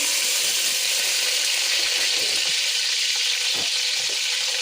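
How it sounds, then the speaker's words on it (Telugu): Curry leaves and thinly sliced onions fry in hot oil with a steady, close sizzle and hiss that runs without a break, broken only by a few soft stirring scrapes and faint clicks. "ఆయిల్ వేడెక్కిన తర్వాత కరివేపాకు, అలాగే సన్నగా తరుక్కున్న ఆనియన్స్"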